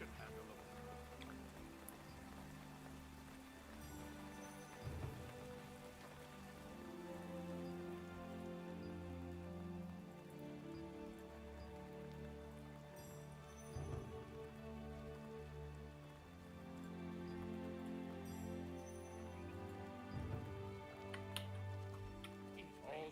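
Rain patters steadily in the game world of Throne and Liberty, a soft, continuous wash of drops beneath layered ambient music and occasional louder thumps.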